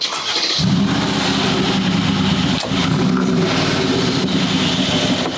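A gated manual V12 supercar engine cranks and fires up, then settles into a loud, rumbling idle with a brief dip and blip partway through, heard up close.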